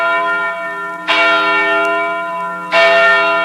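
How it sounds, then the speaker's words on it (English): King's Chapel church bell in Boston, cast by Paul Revere, tolling two loud strikes about one and a half seconds apart, each ringing out with a long, rich, sustained hum that carries into the next stroke. "This is the sound of the bell at King's Chapel, a bell made by Paul Revere"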